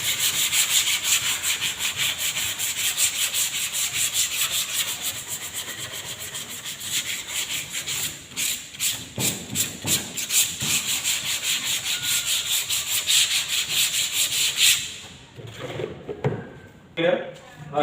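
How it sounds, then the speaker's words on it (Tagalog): A rag soaked in lacquer thinner rubs a wood surface being prepared for flat wall enamel varnish, making quick, repeated scrubbing strokes up close. The strokes turn slower and more uneven before stopping near the end. "Tapos ating babasahin ng lacquer thinner para matanggal yung lagkit."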